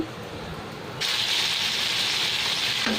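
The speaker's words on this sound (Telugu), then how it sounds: "ఇప్పుడు తాలింపులోకి పప్పుని మొత్తం యాడ్ చేసేసుకుందాం" Cooked dal poured into a hot tempering for cucumber dal bursts into a loud, steady sizzle that starts abruptly and holds hiss-bright to the end, with a faint background hum before it.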